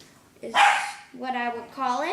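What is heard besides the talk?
dog barking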